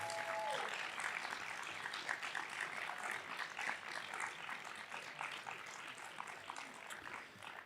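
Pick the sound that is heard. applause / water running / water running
applause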